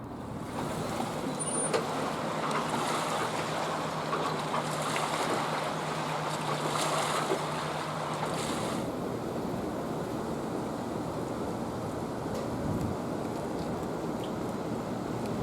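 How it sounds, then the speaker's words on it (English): A water taxi cruising a broad river beside a riverwalk taxi dock, its steady engine drone and washing waves forming a continuous, fairly close wash of noise with gusting wind over the microphone; a low hum fades out partway through. "And another water taxi"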